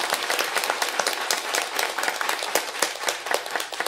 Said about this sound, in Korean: 이동환 목사님께 그 감사의 의미 그리고 격려의 의미를 담아서 박수 보내드리겠습니다